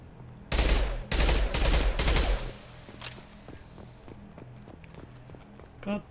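Machine pistol gunfire in Mass Effect 2: loud, rapid bursts crackle over about two seconds, then scattered fainter single shots and impacts trail off, with a brief sharper sound near the end.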